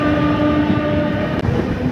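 The Tamralipta Express picking up speed after leaving Santragachi junction: a loud, steady rolling rumble with a sustained tonal hum from the moving train, heard up close.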